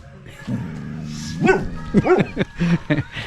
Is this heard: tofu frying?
no